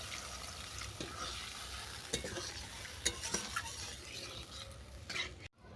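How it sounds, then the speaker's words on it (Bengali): A mustard and poppy seed paste fries in a pan for a village-style kanta chochori, hissing steadily while a utensil stirs and scrapes with occasional clinks against the pan. "দিলাম সরষে আর পোস্ত বাটা। এটা আমি আরও 2 মিনিট নেড়ে চেড়ে নেব।"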